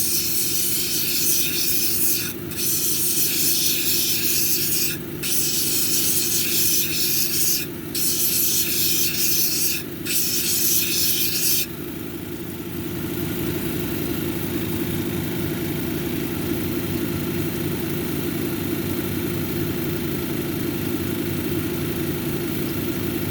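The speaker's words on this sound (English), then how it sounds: "I try to stay on this 220 grit a little longer to make sure I get all the scratches out." A picture jasper cabochon is ground on a 220 grit lapidary wheel, giving a steady motor hum with a loud wet hiss. The hiss breaks off briefly a few times, then settles into a quieter, even whir.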